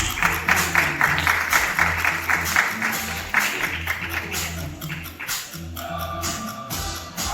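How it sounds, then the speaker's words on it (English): Audience applause at the WEBX2024 conference in Japan, steady crowd clapping that runs through the whole stretch, with a voice speaking over it near the end. "So let's give him a big round of applause."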